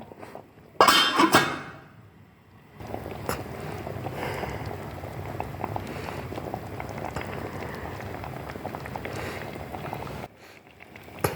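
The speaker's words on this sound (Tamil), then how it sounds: "நல்லா கொதிக்குதுங்க." Fish curry bubbling in a pot on the stove, a steady low burbling simmer after a brief louder clatter at the start, with no talk over it.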